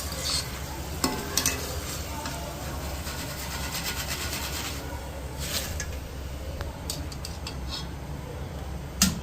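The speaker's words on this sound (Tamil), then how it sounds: "நான் மைதா பிஸ்கெட் பொரிச்சு எடுத்துட்டுருக்கேன்" Maida biscuits frying in hot oil for Diwali snacks, a steady crackling sizzle that runs throughout, with a few sharper pops and light clinks over it.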